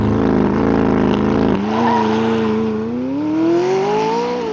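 A McLaren 600LT supercar with a 7-speed dual-clutch transmission accelerates hard, its loud engine note dropping at a quick gearshift and then climbing steadily in pitch, heard from inside the car with no talk.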